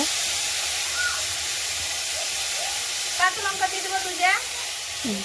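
Potatoes fry in oil with a continuous, even hiss, while faint voices come and go in the background.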